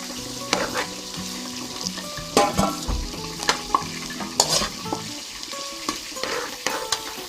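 Pork for sisig sizzles and fries in a pan while a utensil stirs it, with loud scraping clanks that recur through the steady crackle, close up and with no voices.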